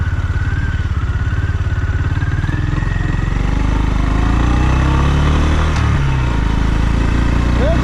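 A brand-new Honda CB350 motorcycle engine runs steadily while being ridden, its low throbbing pulse loud and constant throughout, with a slight rise in revs partway through and no talking.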